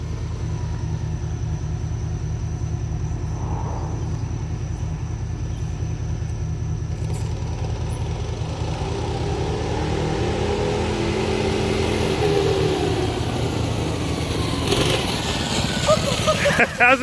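Mini bike engine running steadily as a low rumble, then revving and accelerating toward the end, with a car's engine in the background.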